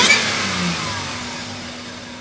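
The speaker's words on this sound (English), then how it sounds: "that's the supercharger on the truck" A home-built flatbed truck with a supercharged engine revs strongly, steady and loud, the whine and roar holding for a couple of seconds before slowly easing, with no voices.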